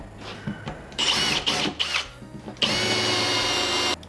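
A power drill with a countersink bit bores into wood in close, loud bursts, several short whirring starts and then one longer steady run.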